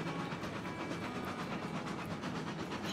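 Steam locomotive braking and slowing in Railroads Online, a steady hissing rumble with faint rhythmic wheel clatter, continuous and moderately loud.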